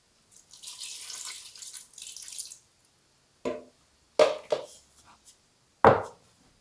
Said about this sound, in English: now I'm going to put a little bit more water in